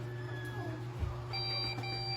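A Lenovo Slim desktop PC with a memory fault and no display gives off steady electronic beep tones over a constant low hum, with a brighter tone starting partway through.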